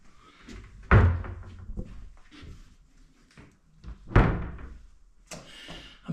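Apartment doors in a Schaerbeek, Brussels flat bang shut in two loud, close thuds a few seconds apart, with softer rattles and handling noises around them and no talking.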